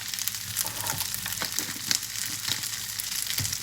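Shrimp fried rice with red chili paste stir-fried in a hot pan, a steady close sizzle broken by irregular scraping and tossing strokes of a spatula, with no talking.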